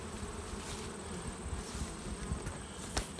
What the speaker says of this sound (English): have bees fanning the entrance of the hive, curing nectar